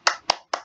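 Three crisp, close hand claps in a quick rhythmic pattern, part of a classroom clap routine led by a teacher, each clap sharp and distinct with silence between.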